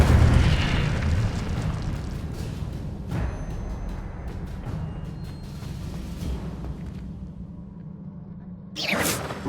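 Incendio fire spell cast in Hogwarts Legacy, a loud fiery burst that rumbles and whooshes before it fades, then a sharp second blast near the end. No one speaks.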